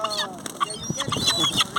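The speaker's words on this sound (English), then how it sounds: "Surrounded by swans." Several swans honk and call in quick, overlapping bursts close by during bird feeding outdoors, with people talking among the calls.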